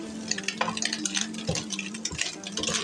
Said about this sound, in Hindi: अब इसी तरह चमचा चलाते हुए गोल्डन कर लें।